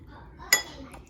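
A single clink of a utensil against a bowl while chocolate fondue is mixed, one sharp metallic tap standing out over quiet background.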